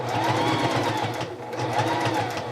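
A sewing machine runs a straight stitch down the side of a fabric headwrap, a steady, close, continuous whir for the whole stretch with a slight dip midway.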